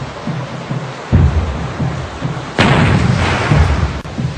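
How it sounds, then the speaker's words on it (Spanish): Naval cannon fire in a sea battle off Angamos: heavy booming blasts, with two sharp reports standing out above a continuous rumbling roar of battle, loud and dense, with no talking. "A las 9:20 de la mañana realiza los primeros disparos"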